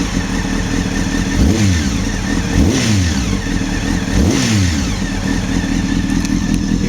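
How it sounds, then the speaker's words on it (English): A Honda CBR600 with a Devil exhaust idles close by, and three sharp throttle blips rise and fall in quick succession over the steady rumble of the engine. "I'll give it a blip of the throttle for you."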